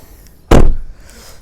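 A car door on a BMW 220i M Sport Gran Coupe shuts once with a single loud, close thud that fades quickly into quiet.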